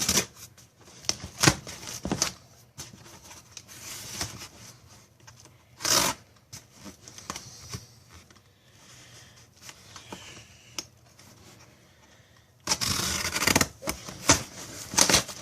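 Cardboard package heavily sealed with mailing tape being torn open: a run of close scratchy rips, crinkles and tearing bursts, ending in a loud sustained rip, with no voices.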